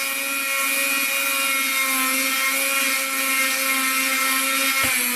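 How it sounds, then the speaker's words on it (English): A Dremel rotary tool drills through fused glass underwater with a pine board beneath, giving a steady high-pitched whine with tonal harmonics that holds throughout, ending in a brief sharp knock. "You will hear a change in the Drummel once it goes through."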